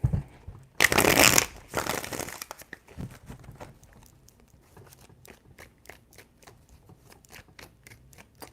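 Tarot cards are shuffled by hand, with a loud burst of riffling and crinkling up front, then a long run of soft, rhythmic flicks and taps as the deck is worked, no talking.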